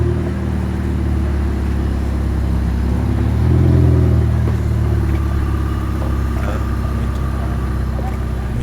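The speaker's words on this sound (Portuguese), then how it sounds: "Aí a Ferrari em movimento aqui, né?" A Ferrari drives past with a steady engine drone and road rumble, swelling briefly louder midway as it moves, heard from a moderate distance with constant background noise.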